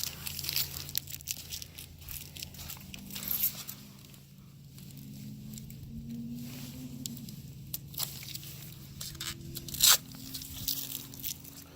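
Stickers are peeled from a new Firestone Winterforce 2 winter tire on a Nissan Juke wheel, giving soft intermittent tearing and crinkling with sharper rips, fairly quiet over a low steady hum.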